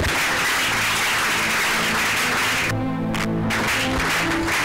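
A church congregation applauds loudly and steadily in a sustained wash of clapping that briefly dips, with faint voices beneath.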